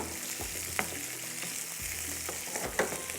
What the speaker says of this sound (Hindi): कबाब को फ्राई।